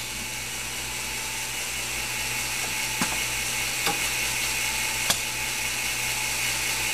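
A wafer-handling robot in a semiconductor resist-coating track moves a wafer to the spinner, set for 1300 RPM. The equipment gives a steady mechanical hum with a few sharp clicks, near and without talk.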